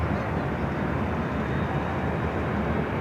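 A Southwest Boeing 737-700 jet airliner at LAX airport gives off a steady, loud, broadband roar that holds constant throughout with no breaks.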